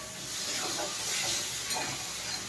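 Green chilli and tomato fry in a hot pan while cooking a Bengali dhokar dalna, giving a soft, continuous sizzling hiss at moderate distance with no talking.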